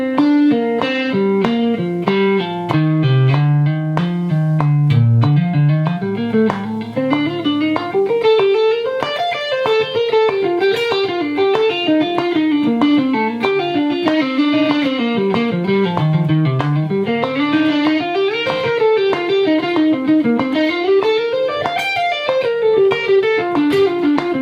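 Electric guitar with light distortion plays smooth legato runs, notes flowing continuously up and down the neck in a steady, even rhythm, close and clear with no talking.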